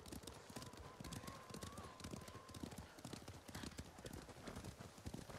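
Horse hooves clip-clop steadily in the video game Ghost of Tsushima, a dense run of close, even hoofbeats with a brief whinny-like tone near the start, carried over constant background ambience.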